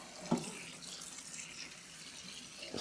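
Tap water runs steadily into a kitchen sink while split peas are rinsed, a continuous hissing flow with a brief knock at the start and faint handling near the end.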